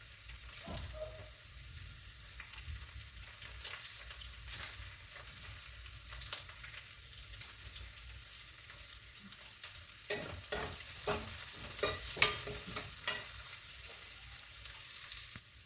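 Sliced onions and curry leaves frying in oil in a pan for a paneer masala curry, a soft continuous sizzle broken by scraping stirs that come in clustered bursts in the second half.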